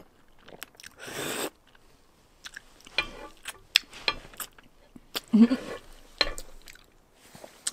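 Spicy noodles are chewed and slurped close to the mic in scattered bursts of crunching and wet bites, with quiet gaps between mouthfuls.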